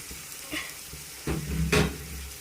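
Bitter gourd pieces fry in a pan with a steady sizzle, punctuated by a couple of louder stirring scrapes and crackles near the end.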